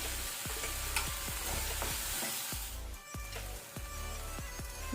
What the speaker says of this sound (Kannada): ಟೊಮೆಟೊನ ಸಹ ಸ್ವಲ್ಪ ಫ್ರೈ ಮಾಡ್ಕೊಳ್ಳುವ.